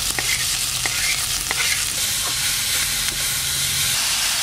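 Whole cumin, chopped onion and tomato, along with whole spices, frying in a pan for a mutton curry, giving a steady close sizzling hiss broken by a few stirring scrapes, with no talk.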